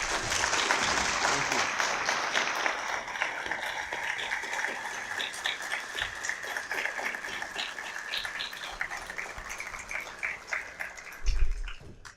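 Sustained audience applause after a debate on traditional Islam, a dense, steady wash of many hands clapping that carries on for about ten seconds, thins gradually, then swells into a brief louder burst near the end.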